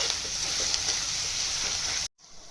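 Chopped onions, three medium ones, sizzle in hot oil in a pan, an even, close hiss that runs steadily before cutting off abruptly near the end.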